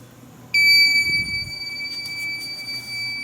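A building fire alarm sounds with a shrill, steady electronic tone that starts suddenly, with faint background noise and no talking.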